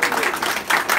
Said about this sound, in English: Let's give labor a big round of applause.